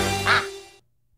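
A single short rubber duck quack sounds as an effect in a hot tub dealer's radio ad, crisp and close before a quick fade to silence.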